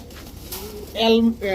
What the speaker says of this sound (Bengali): এখন দেখাবো একটা অ্যালমন্ড কালারের একটা কবুতর, খুবই সুন্দর একটা কবুতর।